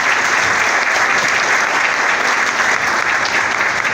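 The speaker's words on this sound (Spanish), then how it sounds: "Un aplauso para él." An audience in a hall in Tamboril, gathered for a talk on impunity and corruption, gives dense, loud, continuous clapping that holds steady throughout.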